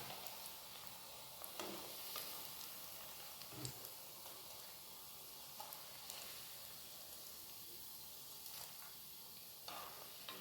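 Quail egg bird's nest snacks, kaada mutta kili koodu, fry in hot oil, a faint continuous sizzle with scattered soft pops and crackles throughout.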